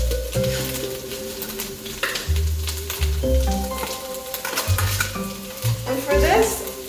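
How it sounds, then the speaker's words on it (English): Couscous stirred into a sizzling pan while making jack-o'-lantern stuffed peppers, with scraping spoon strokes and light frying crackle over background music. "I'm just gonna add in some couscous."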